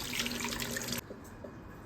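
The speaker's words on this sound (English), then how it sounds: "Let's turn the tap. Oh my god, it looks like a waterfall." Water gushing hard from a basin tap in a resort washroom, a loud steady rush for about a second that then drops to a softer trickle and drip.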